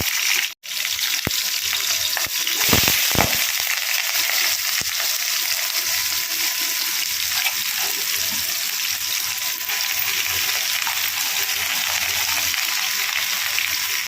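Panch phoron spices dropped into hot oil for a potol chorchori fry up a steady, close sizzle. It hisses evenly throughout, with a brief dip near the start and a few soft clinks.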